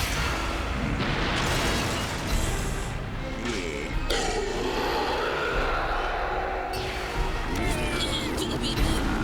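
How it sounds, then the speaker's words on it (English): A Hyper Beam attack in a Pokémon video game: a loud, continuous roaring blast of booming, crackling game effects that surges and bursts across the whole stretch with no pause. "Hyper Beam Attack."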